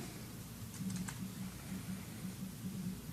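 Quick keyboard keystrokes on a computer as a file name is typed for a 3ds Max save, a short burst of close clicks over a steady low hum.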